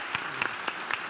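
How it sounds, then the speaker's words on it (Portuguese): Audience at an e-commerce and marketplace panel applauding the panelists, a thin, faint smattering with only a few distinct claps. "pedir uma salva de palmas para os nossos panelistas"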